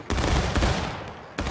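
Musket volley gunfire in the Civil War game War of Rights cracks out in a few sharp, overlapping blasts, the first loud and close, followed by a brief rolling echo and another shot near the end.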